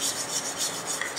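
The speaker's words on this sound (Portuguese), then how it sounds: "Eu posso usar uma lixa." Steady rasping of sandpaper smoothing a cement sculpture, continuous back-and-forth rubbing strokes close up with no talking.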